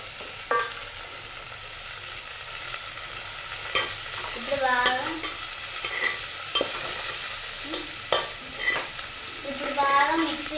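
Tomatoes frying in a pan, a constant bright sizzle with repeated scraping stirs and occasional clinks of a utensil against the pan, close and steady, with no talking.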